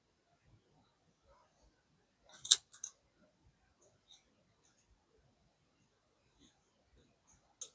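Scissors cut orange paper for a Halloween scrapbook layout in a few close, crisp snips clustered together, followed by sparse faint clicks in an otherwise quiet room.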